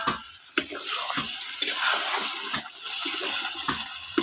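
Water is added to chicken cooking in a hot pan, a sizzling, bubbling hiss broken by several sharp splashes and clinks at irregular moments.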